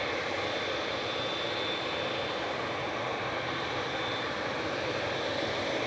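A Qatar Airways Boeing 787-9 departs Manchester Airport for Doha, its jet engines a steady, broad roar that holds at an even level throughout, somewhat distant and without talk.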